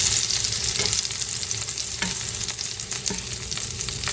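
Chicken pieces frying in a skillet, a loud continuous sizzle with occasional spatula scrapes and taps, close up and without voices.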